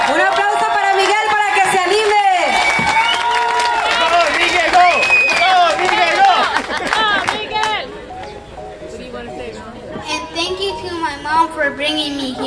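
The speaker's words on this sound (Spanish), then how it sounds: "Un aplauso para Miguel" Audience clapping and cheering for a child performer at a children's talent show in Sacramento, a lively burst of applause mixed with children's voices and crowd chatter, fading into talk and scattered claps.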